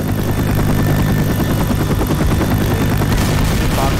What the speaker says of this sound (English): the helicopter's here!